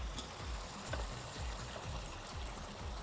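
Water pours into a cooking pot while tandoori butter chicken is being made, a steady, even splashing rush that carries on without a break.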